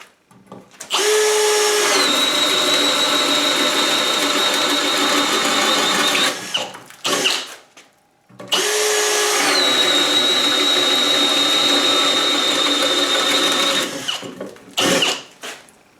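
A Milwaukee M18 FUEL 2704 Gen 2 brushless 1/2-inch hammer drill runs in two long loud bursts, each spinning up to a steady high whine, then winding down between them.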